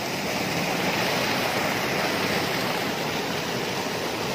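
Water rushing and churning in a steady, loud, unbroken roar, as if pouring through a channel or spillway during the dry season, with no voices over it.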